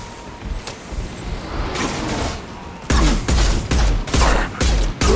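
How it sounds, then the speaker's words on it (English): Heavy pistol fire in the Mass Effect 2 video game, a run of loud, booming shots at a steady rhythm, with a few scattered earlier shots and mechanical clatter before the main burst. "That's the heavy pistol."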